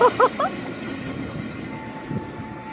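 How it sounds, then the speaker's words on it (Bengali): A passing train rumbles steadily nearby with a low rolling rattle of wheels on track, beginning after a few short sung or called-out vocal notes at the start. "ট্রেন চলে এলো ট্রেনের টাইম হয়ে গেছে ট্রেন চলে গেল"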